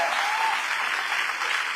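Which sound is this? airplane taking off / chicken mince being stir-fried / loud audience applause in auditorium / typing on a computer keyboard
loud audience applause in auditorium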